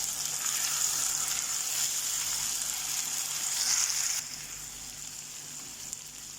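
Ginger garlic paste sizzles and fries in a hot pan, a steady close hiss that drops to a quieter crackle partway through, with no talking.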